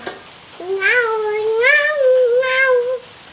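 A young child imitates a cat's meow, producing one drawn-out, rising and falling whiny meow with a wavering pitch, close and fairly loud, with no other speech.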